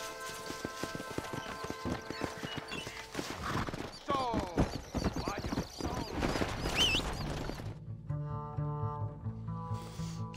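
Horse hooves clip-clop along with a wagon in the Red Dead Redemption western video game, a steady near trot under a musical score, with a whinny and voices speaking over it before the hoofbeats fade.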